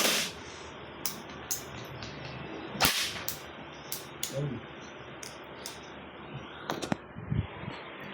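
An upgraded gel blaster fires a series of sharp, snapping shots at irregular intervals, some single and some in quick pairs, over a quiet outdoor background.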